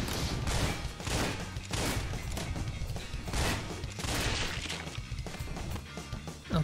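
Rapid, dense gunfire from target shooting in the video game Wet, sustained bursts of loud shots filling the whole stretch with no pauses.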